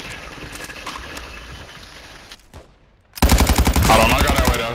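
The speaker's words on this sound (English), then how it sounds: "Taking effective fire!" Automatic gunfire in a military shooter video game, sudden loud rapid bursts cutting in after quieter ambient game sound, with talk nearby.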